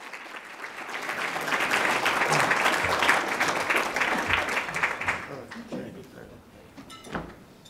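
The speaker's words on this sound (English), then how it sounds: "Let's give Jeffrey a round of applause." A conference audience applauds steadily, building to a full, dense round of clapping that tapers off near the end, with a few scattered claps and faint room noise after.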